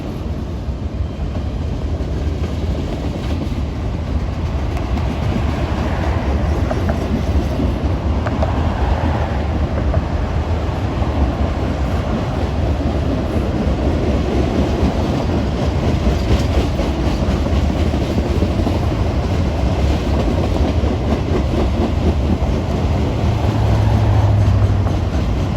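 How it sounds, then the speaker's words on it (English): A Norfolk Southern freight train rolls past on the Pittsburgh Line, hauling John Deere tractors, its steady low rumble and wheel clatter continuous and fairly close for the whole stretch. "This train often has John Deere tractors on it."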